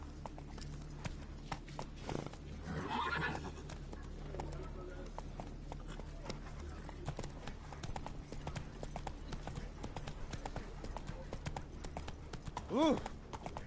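Roach the horse in The Witcher 3 clip-clopping at a steady gallop under ambient game sounds, with a short neigh near the end and someone speaking briefly.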